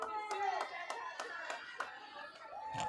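Scattered hand claps from a crowd at a girls' high school basketball game, Comets versus Nikiski, irregular sharp claps rising over steady chatter and a voice speaking nearby.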